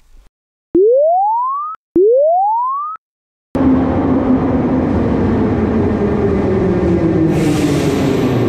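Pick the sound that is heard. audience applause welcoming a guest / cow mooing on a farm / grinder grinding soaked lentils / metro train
metro train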